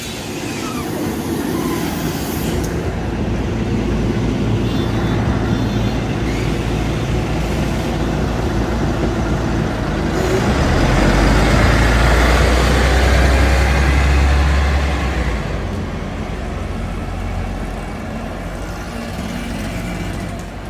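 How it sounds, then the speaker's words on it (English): A MAN NG313 Lion's City diesel articulated bus runs in Ljubljana, its engine a steady low rumble and road roar from onboard that swells around the middle, with no talk. "these buses don't really sound interesting"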